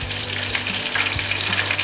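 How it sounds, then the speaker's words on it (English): Shrimp fry in a pan with a steady, close crackling sizzle over a faint low hum, lasting under two seconds. "I'm frying some shrimp"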